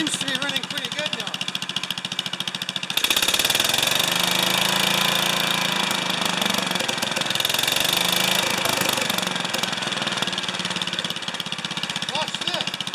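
A 10 HP Kohler K241 single-cylinder engine runs on a new carburetor, first a quieter chugging, then a louder, steady, rapid thumping rhythm close by, with a voice talking over it.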